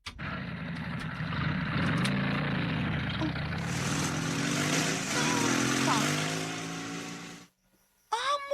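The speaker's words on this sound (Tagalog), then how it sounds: "Amo man tong motor." A motorcycle engine runs loud and steady, passing close with shifting pitch for several seconds before cutting off abruptly, then resuming briefly at the end; a voice can be heard under the engine noise.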